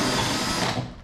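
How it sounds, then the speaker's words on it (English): A power drill with a step bit bores into thin sheet metal for an air intake, a brief loud whirring grind that holds steady and then tapers off. "I'll just drill them out."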